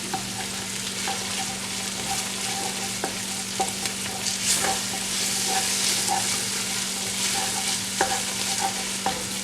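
A spoon stirs tomato puree into sweated onions in a pan on medium-high heat, steady close sizzling with repeated light scraping and tapping strokes throughout, no talking.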